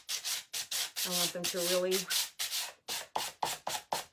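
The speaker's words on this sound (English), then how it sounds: "I'm going to sand the edges just a little bit more." A worn sanding block rubbed in short back-and-forth strokes along the edges of a wooden sign, a rhythmic scratchy rasp repeating quickly and close, briefly overlapped by a person talking.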